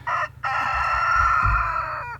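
A homestead rooster crows loudly and close by, one short call followed by a long, full cock-a-doodle-doo that trails off at the end, with faint background noise.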